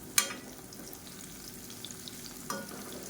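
Raw banana slices frying in a pan over a medium flame make a faint, quiet sizzle, with a sharp clink at the start and another softer knock a few seconds later.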